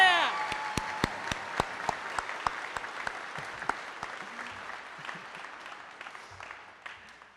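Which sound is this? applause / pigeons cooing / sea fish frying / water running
applause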